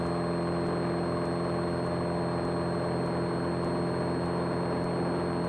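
Small aircraft engine at full RPM during takeoff, a loud steady drone with strong harmonic hum filling the cabin, constant and unbroken with no speech.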